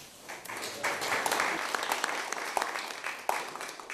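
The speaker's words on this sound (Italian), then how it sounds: "Applausi meritati quelli al presidente del Club Ciclistico Cremonese 1891, Rossano Grazioli" Steady crowd applause for the president of the Club Ciclistico Cremonese 1891 at a Cremona cycling race event, a dense, continuous patter of clapping heard alone for several seconds.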